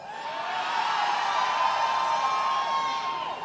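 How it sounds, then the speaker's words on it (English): A large rowdy crowd at a Miami presidential campaign rally cheering and whooping loudly, a dense sustained roar with high shouts, steady from start to finish. "It's always a rowdy crowd."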